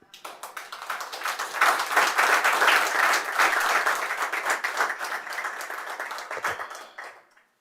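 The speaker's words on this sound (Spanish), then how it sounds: "Denle un aplauso al Señor." A church congregation claps for the Lord during a sermon, a dense burst of hands rising quickly, holding steady for several seconds, then tapering and stopping abruptly.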